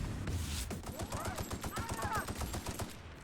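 Assault rifle fire in The Outer Worlds, rapid bursts of repeated shots in a quick rhythmic stream, close and fairly loud, with game sounds sweeping through.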